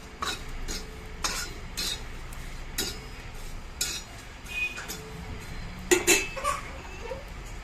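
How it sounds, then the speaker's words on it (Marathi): Dried shrimp (jawla) dry-roasting in a pan while being stirred, a run of scraping, clinking strokes at an irregular rhythm, close and moderately loud, with faint background noise. "अशा पद्धतीने जवळ भाजत राहायचं आहे"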